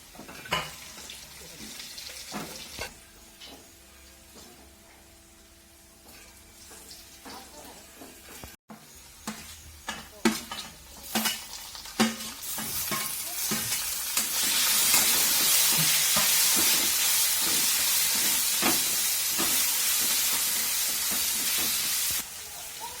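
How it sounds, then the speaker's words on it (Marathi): Grated coconut and garlic fry in a pan for dal tadka with a crackling sizzle and intermittent clatter of stirring. The sizzle swells into a loud, steady hiss partway through and no one speaks over it. "जे आपण खोबरं किसून घेतलं होतं आपलं ते खोबरं पण त्याला पण टाकायचं चांगलं परतून घ्यायचं आहे"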